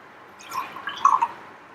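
Water being poured into a measuring cup makes a soft, short trickling and splashing sound. It is faint and close, lasts about a second, and has no talk over it.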